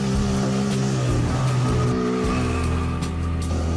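A Targa-roof car accelerating hard, a loud, close engine roar with rising and falling revs and a hint of tire noise, sustained throughout with no talk.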